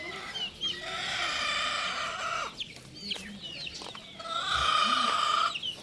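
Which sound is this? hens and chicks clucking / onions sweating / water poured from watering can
hens and chicks clucking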